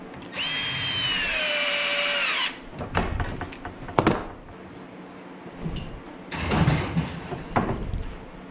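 A power drill driving a screw into hickory wood in a woodworking shop: a loud, steady two-second whine with a rising pitch, then several short bursts of drilling and clattering, one more sustained run later, no talk.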